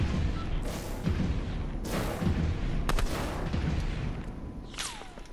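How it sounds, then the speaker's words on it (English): Sniper shots and other gunfire in a Fortnite squad match, several sharp booming reports spaced about a second apart over game noise, ending with a falling whistle-like tone. "we're being sniped by someone"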